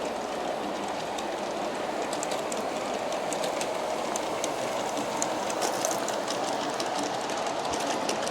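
A BNSF G scale model train of eighteen cars rolls steadily along the track near the listener, its wheels clicking continuously over rail joints in a busy, even rumble.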